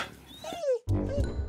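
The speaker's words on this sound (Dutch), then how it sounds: "Je hond blijft maar blaffen, kan je er niet wat aan doen, joh?" A neighbour's dog gives a couple of sharp yelping barks with a short whine between them, close and fairly loud in a dispute between neighbours, with background noise around it.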